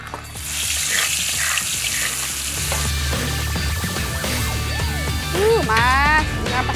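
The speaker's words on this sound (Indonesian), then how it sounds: "Selagi Masnya goreng ikan" Toman fish frying in a pan in a home kitchen, a steady loud sizzle and crackle running the whole time, with stirring clatter and voices over it and a brief rising whistle-like tone near the end.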